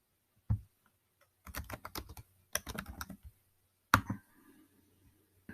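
Bursts of clicky computer keyboard typing up close as a quiz name is entered into a Google Form, in quick rhythmic clusters separated by pauses and a single sharp keystroke, with no speech.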